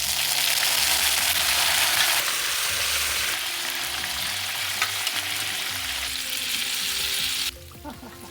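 Black chickpeas tumble into hot oil with chopped small onions, dried red chillies and curry leaves, making a loud sustained sizzle and stirring clatter that drops suddenly to a quieter hiss near the end.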